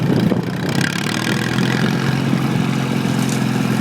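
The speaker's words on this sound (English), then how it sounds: "So I'm just going to be driving this and show you guys basically the tractor." An old farm tractor from the late 1940s runs steadily, its engine droning loud and close with an even, uninterrupted chug and no voices over it.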